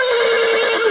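A horse whinnies loudly and close, one sustained high, wavering neigh filling the whole moment.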